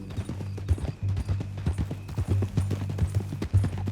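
Horse hooves clip-clop steadily on a hard trail in Red Dead Redemption 2, a close, continuous rhythm of overlapping hoofbeats with a faint neigh.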